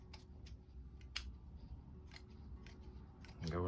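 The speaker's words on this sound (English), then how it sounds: "Now cut this one out. Be careful with your scissors." Scissors cut fabric for hand sewing with a series of crisp snips, about a dozen irregularly spaced strokes close to the mic, before a brief rustle of handled cloth at the end.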